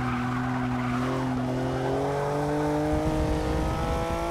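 A 2015 Porsche Cayman GTS engine in Forza 6 whines loudly and steadily, pitch shifting as it revs through gears, with a synthetic video-game character and no talking.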